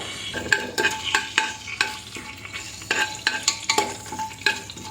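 Spices are stirred in hot ghee for prawn biryani: rhythmic spoon scrapes and taps against the pan repeat over a low sizzle, close and steady, with no talking.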